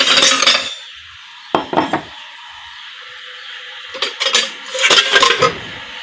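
Spoons and cutlery clink and rattle in short bursts close by while food heats in a pot, with quiet pauses between the clatters.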